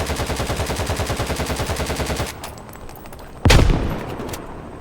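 Automatic gunfire in the tactical shooter Door Kickers 2 rattles out as a loud, rapid, evenly spaced burst for about two seconds. After a short lull, a single sharp, heavy blast follows.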